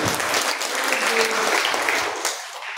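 Church congregation clapping in response to a preacher, a dense burst of applause that carries steadily for a few seconds before thinning out, with a little talk mixed underneath.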